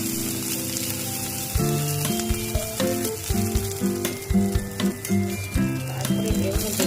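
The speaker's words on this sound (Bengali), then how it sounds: "তেলের মধ্যে নেড়ে নেবো" Ingredients are stirred in hot oil for a Bengali matar paneer, a loud continuous sizzle close by with scraping stirs, while background music plays underneath.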